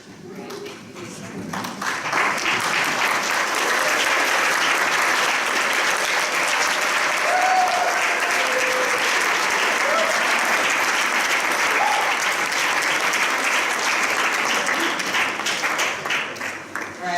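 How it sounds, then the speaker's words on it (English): Long, loud ovation from an audience at a drug policy student group's board candidate forum, many hands clapping in a dense steady wash that swells in after a moment and holds for well over ten seconds. "let's give a nice round of applause"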